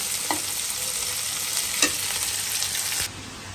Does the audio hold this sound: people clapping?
no